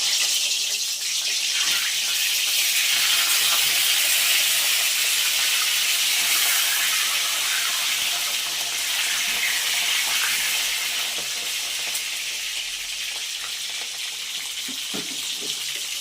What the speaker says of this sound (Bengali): যে তেল গরম হয়ে গেছে, এখন দিয়ে দিলাম পটলগুলো